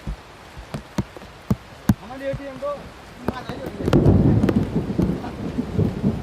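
Heavy rain in Howrah district at a construction site, with several sharp, loud thunder cracks at first, then a steady roaring downpour. Brief voices can be heard among the storm.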